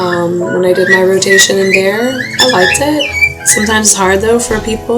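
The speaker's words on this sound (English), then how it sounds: "Sorry about my birds." Pet birds squawk and whistle in shrill, tuneful bursts around a room, mixed under a person's steady talking.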